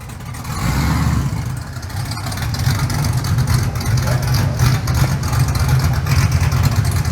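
A shop truck engine rumbles loudly nearby, revving up and holding a steady, rough roar.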